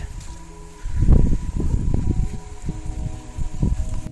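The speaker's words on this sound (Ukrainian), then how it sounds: "Дуже сильний вітер" Strong wind gusts buffet the microphone in loud, uneven bursts, with rustling between gusts, outdoors at a vegetable garden during rotary tilling.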